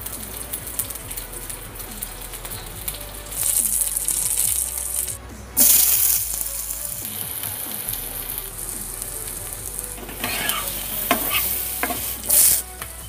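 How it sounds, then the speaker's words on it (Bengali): Pointed gourd and potato pieces fry in hot oil in a wok, a steady close sizzle with stirring scrapes and occasional sharp clinks and spatters, with no talk. "এখন আমি কড়াইয়ে তেল দিয়ে পটলগুলিকে এবং আলুগুলিকে ভালো করে ভেজে নেব"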